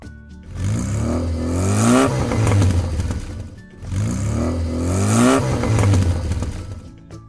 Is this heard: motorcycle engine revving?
yes